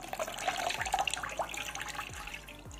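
Soaked coriander leaves are lifted out of a bowl of water, with close sloshing, trickling and dripping throughout along with a few soft handling knocks.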